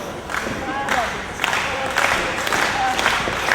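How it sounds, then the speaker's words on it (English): A wrestling crowd in an arena cheers and claps for the challenger in a match, a continuous roar with bursts of applause under a commentator's voice. "Crowd again starting to get behind the challenger"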